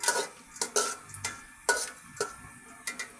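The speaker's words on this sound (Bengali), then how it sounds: "এই গোটা মশলাগুলোকে আমি একটু নাড়াচাড়া করে নেব" Whole spices, including cardamom, cinnamon, cloves and bay leaves, are stirred in a pot for yakhni pulao, giving a series of sharp scraping clinks of a spoon against metal over a faint sizzle.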